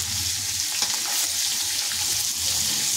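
Musi fish coated in masala fries in oil with a dense, even sizzle and bubbling hiss, close and fairly loud, with a few small pops and no talking.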